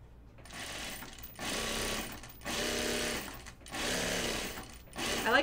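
A sewing machine stitches binding onto a fabric pocket bucket in four short rattling runs, each about a second long, with brief pauses between them, close and moderately quiet.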